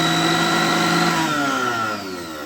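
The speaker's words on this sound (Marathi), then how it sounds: "चला आपण बघूया आता मिक्सर चालू होतो का ह्या पॉईंटवर" An electric kitchen mixer grinder whirs loudly and close, its motor tone sliding gradually downward as it winds down near the end.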